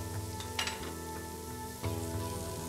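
Bacon and onions sizzle as they brown in a pot for seafood chowder, a steady close frying hiss with faint stirring clinks and scrapes, and no voices.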